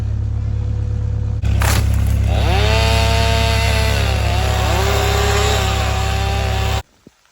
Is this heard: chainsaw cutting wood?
yes